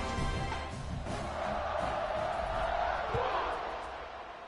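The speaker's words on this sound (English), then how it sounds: "this crowd is buzzing after that last score" A stadium crowd in the video game College Football 26 buzzes and roars after a touchdown, a broad murmur with some shouts under commentator talk.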